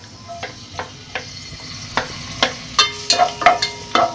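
Garlic dropped into hot oil for a pork-bone dish, sizzling steadily while a spatula scrapes and taps the pan in irregular, growing strokes.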